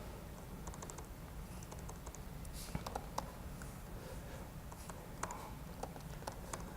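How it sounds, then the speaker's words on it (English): Quiet, continuous typing on a MacBook keyboard, a fast, soft patter of keystrokes with a few sharper taps standing out over a constant background hiss, with no one talking. "I don't really like this new MacBook keyboard."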